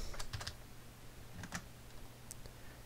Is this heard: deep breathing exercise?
no